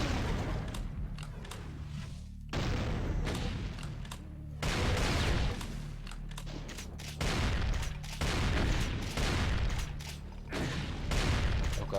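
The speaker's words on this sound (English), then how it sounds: "Oh god, there's a rocket launching the other side" Heavy combat in the Doom mod Eternal Doom IV: dense, repeated booming blasts and rapid gunfire bursts, including a rocket launch somewhere across the map, loud and continuous throughout.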